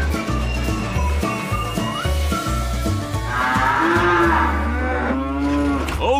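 Several cartoon cows moo in overlapping low calls, loud and close, one long drawn-out bellow rising near the end over a noisy background.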